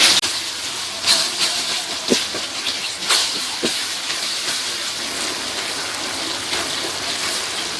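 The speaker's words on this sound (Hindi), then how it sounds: "अदरक और लहसुन के पेस्ट को थोड़ा भून लेंगे ताकि इसका कच्चापन ख़त्म हो जाए" Ginger and garlic paste sautés with browned onions in a pan, a steady broad sizzling hiss with occasional faint scrapes and clicks, heard alone without talk.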